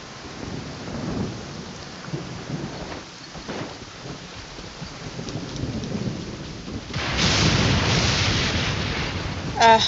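Thunderstorm during a lightning storm in Genshin Impact: a low, rolling thunder rumble runs throughout, swelling into a louder burst of heavy rain and crackling thunder near the end.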